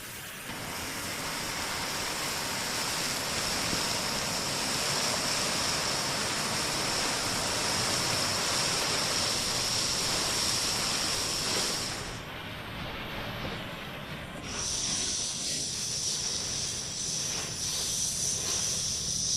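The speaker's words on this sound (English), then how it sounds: "It's a waterfall with hot water." Hot water waterfall inside a cave in Greece, a continuous hissing rush of falling water with a faint high tone that briefly drops out, no voices.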